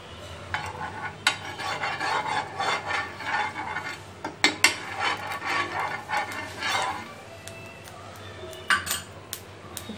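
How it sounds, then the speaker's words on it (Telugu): Spoon clinking and scraping in a bowl as besan cheela batter is stirred, rapid irregular metallic strokes near and fairly loud throughout, with a few sharper taps toward the end. "ఇప్పుడు మొత్తం మిశ్రమాన్ని బాగా కలుపుకుందాం."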